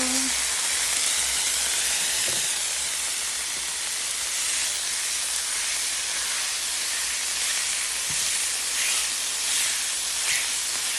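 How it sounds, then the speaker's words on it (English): Tofu cubes dropped into a hot pan give a loud, continuous hissing sizzle with a few faint clicks, heard close for the full stretch. "So let me work on getting this into some cubes, and then we're going to put this in the pan. In goes the tofu."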